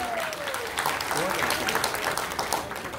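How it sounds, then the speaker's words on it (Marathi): An audience claps loudly and continuously at a Marathi stage event, a dense, even wash of many hands lasting the whole moment. "एकदा जोरदार टाळ्या वाजूया"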